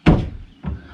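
A wooden cabin door on spring-loaded hinges swings shut with a loud, close thud, followed about half a second later by a softer second knock as it settles.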